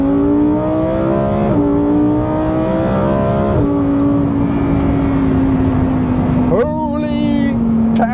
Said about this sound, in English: well, let's wake the engine up a bit.